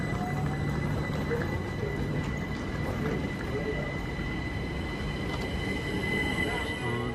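A two-coach train arriving at a station platform rumbles steadily close by, with a continuous roar and a thin, high metallic whine running over it.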